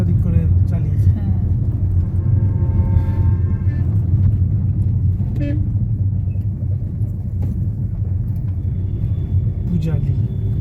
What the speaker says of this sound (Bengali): মানে গাড়ি প্রায় 20-30 কিলোমিটার বেগে চলছে, তার বেশি খুব একটা ওঠা যাচ্ছে না